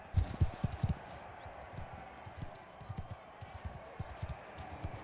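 Horse hooves clip-clop in a steady, uneven rhythm of close, low thuds in Mount & Blade II: Bannerlord, loudest at first and then settling into a quieter repeating gait over a faint background hiss.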